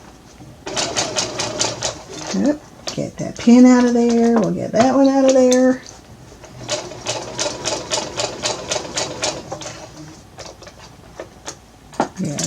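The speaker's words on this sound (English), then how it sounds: "And I'm sewing right on my line." Sewing machine stitching a fabric hot/cold pack in rapid bursts of close, even needle clatter, pausing briefly while someone talks over it about removing a pin.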